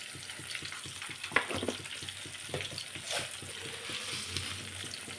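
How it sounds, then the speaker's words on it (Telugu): Cumin seeds sizzle in hot oil in a kadai for a brinjal coriander chutney tempering, giving a steady, close crackling hiss with small pops throughout. "అదే కళాయిలో కొంచెం ఆయిల్ పోసుకొని, ఆయిల్ ఎక్కినాక కొంచెం జీలకర్ర వేసుకోవాలి."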